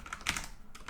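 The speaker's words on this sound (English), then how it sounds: "I'm just typing it so you can actually see what it looks like." Computer keyboard keys tapped in a brief burst of typing, a few close clicks clustered together with quieter taps around them, no voices present.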